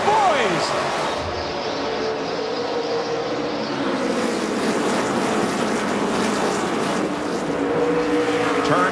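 NASCAR stock cars roar off the start of the 2005 Chevy American Revolution 400, a dense, sustained engine drone from the pack with a commentator talking over it throughout.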